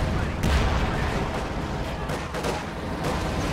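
Machine gun fire in the Company of Heroes 2 video game during a US and Soviet versus OKW Wehrmacht battle: dense, continuous rattling bursts with booming shots mixed into a loud, busy battle soundscape.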